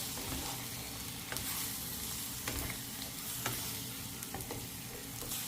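Eggs frying in a pan with noodles, a faint steady sizzle with occasional light scrapes of stirring, quiet and close.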